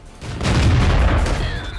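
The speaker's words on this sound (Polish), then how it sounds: "Bardzo ładny, czysty strzał." A heavy tank cannon shot in World of Tanks booms out with a deep, rumbling blast that rolls on for over a second, loud and close, with no one speaking.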